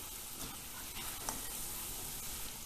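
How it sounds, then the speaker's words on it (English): Chopped garlic frying gently over low heat, a soft, steady sizzle with faint stirring scrapes running evenly throughout. "Tablespoon of chopped garlic, and I'll cook this on low heat till the raw smell goes away."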